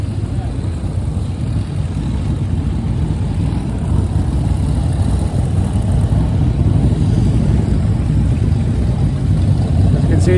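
Crowd of motorcycles rumbling as they arrive at the Distinguished Gentleman's Ride finish at Bursledon Brickworks, a loud continuous deep engine drone with no break.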